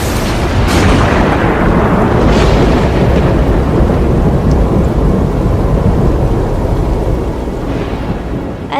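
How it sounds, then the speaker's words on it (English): A thunderstorm with loud rumbling thunder and steady heavy rain, the roar continuous across the whole stretch with swelling peaks and no voices. "Now this thunderstorm?"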